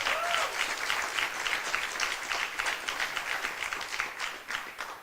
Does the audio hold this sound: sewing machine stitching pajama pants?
no